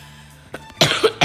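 A faint throaty sound gives way to a close, loud cough, then a quick second cough right after, all indoors with no talking.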